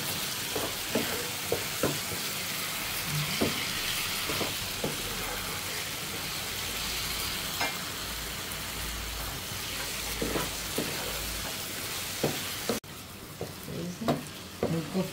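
Fish kofta frying in a spiced masala, a continuous dense sizzle close by with intermittent spoon scrapes and clinks, a brief drop in level near the end, no talking.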